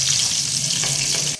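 Green chillies and onions hit hot oil in a pan for a mutton curry, giving a brief, steady, close hiss of sizzling that holds evenly throughout.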